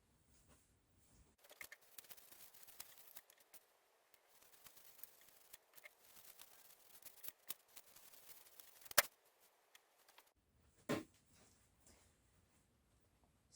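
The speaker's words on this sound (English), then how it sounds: "I'm going to cut out 1 centimetre strips to make each pin tuck" Scissors snip through fabric, cutting 1 cm strips for pin tucks, in a quiet room as a run of soft, irregular crisp cuts, with a couple of sharper clicks near the end.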